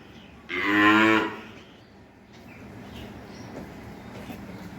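A Jersey heifer on a farm gives one loud, drawn-out moo lasting about a second, followed by quieter barn background noise and faint indistinct sounds.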